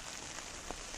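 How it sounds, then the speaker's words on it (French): Steady rain falls outdoors on the Isle of Man, a faint, continuous hiss with soft pattering and no voices. "Dès qu'il pleut un peu moins, on a déjà l'impression qu'il fait beau."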